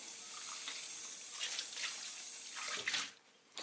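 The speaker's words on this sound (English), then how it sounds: "I'm gonna rinse it." Running water splashes steadily while a cast iron pan is rinsed under a faucet after washing with dish soap, a close hiss of water with slight shifts as the pan moves beneath the stream.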